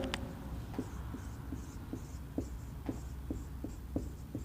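Chalk or marker tapping out numbers on a board, a series of short, sharp taps at an uneven pace, close by and fairly quiet, with a steady background hiss and no talking.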